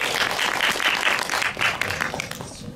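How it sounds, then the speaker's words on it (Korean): Audience applause welcoming actor Kim Joo-hyuk onto the stage at a Korean cinematheque film festival talk, a dense, steady patter of many hands clapping that fades slightly toward the end, with no voices over it. "큰 박수로 한번"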